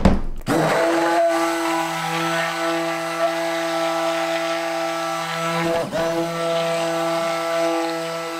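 A blender whirs steadily through soap batter, a loud close motor drone with a strong even hum that dips once briefly midway and then carries on unchanged, with no talking.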